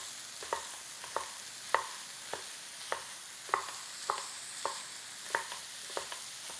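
A pound of ground beef browning in a pan is broken up with a utensil in regular scraping strokes about twice per second over a soft background sizzle, close and clear, with no talking.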